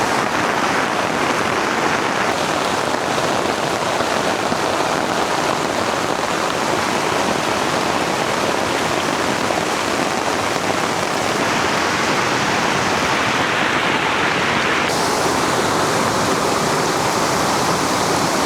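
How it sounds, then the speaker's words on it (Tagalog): Heavy rain pours continuously during a flash flood at a camping spot, a dense, loud, roaring wash with rushing water, unbroken and with no voices. "Lakas ang ulan dyan sa bandang taas."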